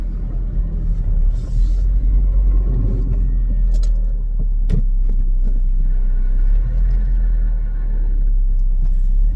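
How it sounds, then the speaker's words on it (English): A manual-transmission car pulled out of storage idles and rolls backward out of a garage, giving a steady low engine rumble throughout with a few faint knocks and clicks on top. "What we're going to do is back this out of the garage now."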